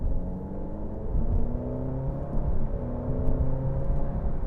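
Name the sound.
Alfa Romeo Giulia TI Q4 accelerating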